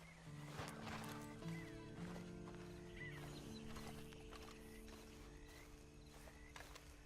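Horse hooves clip-clop at a walk while a horse whinnies in the video game Red Dead Online, with faint mechanical clinks and a low hum in the background.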